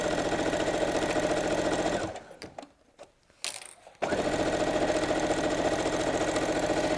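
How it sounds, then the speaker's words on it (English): Close sewing machine stitching a picnic tote, running in a steady fast whir, pausing briefly with a few clicks and handling noises, then resuming at full speed. "I'm going to have to do a top stitch in a minute."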